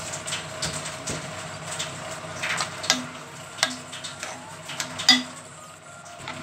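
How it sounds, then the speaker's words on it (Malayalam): A spoon scrapes and taps around a pot of drumstick leaf curry with salt added, irregular clinks and stirring scrapes close by over a low background hum. "അതിനുശേഷം ആവശ്യത്തിന് ഉപ്പും കൂടെ ഇട്ട് നല്ലപോലെ നിളക്കി കൊടുക്കാം."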